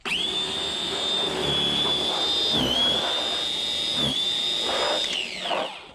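An ENHULK 20V cordless snow shovel pushes through heavy, wet snow with a loud, steady, high-pitched motor whine that dips briefly as the load bogs it down, then winds down at the end.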